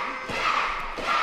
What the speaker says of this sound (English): You can hear this crowd, though.